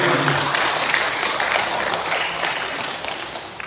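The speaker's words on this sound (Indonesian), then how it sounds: "Tepuk tangan untuk dia." Crowd applause at a school motivational talk, a dense steady clatter of many hands clapping together, loud and sustained throughout, tapering slightly toward the end.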